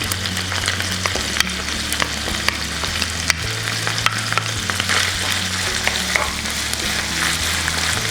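Ground beef and garlic frying in a hot pan for gochujang beef, a steady close sizzle with scattered crackles and occasional scrape-like clicks of stirring, no voices.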